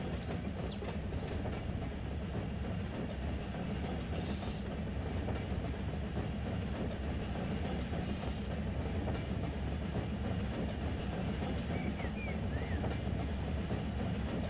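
Railroad cars roll steadily along tracks near the Searles Valley Minerals plant in Trona, a continuous low rumble with faint clickety-clack and occasional brief squeals, heard from a short distance with no talking.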